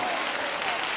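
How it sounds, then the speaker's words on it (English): A church congregation claps hands together during worship, a dense, steady wash of applause filling the room. "When the Spirit tell you to clap your hands, don't just sit there"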